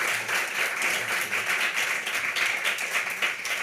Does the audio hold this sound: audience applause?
yes